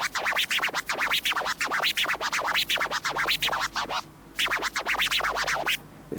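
A DJ scratches tears on a turntable record without using the crossfader, producing a rapid, steady run of back-and-forth scratch strokes, close and fairly loud, with a brief pause midway.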